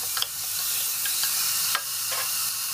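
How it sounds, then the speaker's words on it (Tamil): Vegetables including peas sautéing in a little oil inside a pressure cooker for pav bhaji masala, a loud continuous sizzle close up with a few stirring scrapes, no voices. "கொஞ்சோண்டு எண்ணெய் ஊத்தி இப்போ இதை நல்லா வதக்கணும்."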